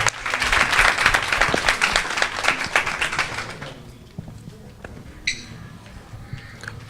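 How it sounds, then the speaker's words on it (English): Audience applause for a departing guest at a youth community chat in Manchester, a lively round of clapping that fades after a few seconds into a quieter room with scattered taps and murmurs. "Just want to give him a round of applause and thank you so much for coming"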